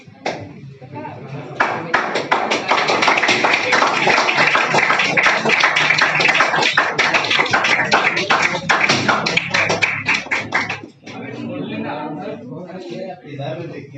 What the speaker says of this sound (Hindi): ताली बजाना भाई, फिर आगे।